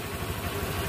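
A motorcycle engine idles steadily while running to charge its battery, a close, even low rumble with a faint regular pulse and no voices over it.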